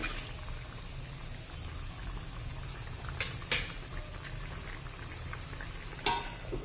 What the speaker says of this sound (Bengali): এক মিনিট ফুটে গেছে আরও একবার নাড়িয়ে দেবো